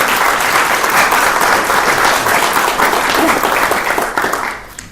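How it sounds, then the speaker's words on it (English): Loud, sustained applause from an audience at a local community awards evening in Gosport, steady dense clapping for about five seconds before tapering off at the end. "Big hand of applause."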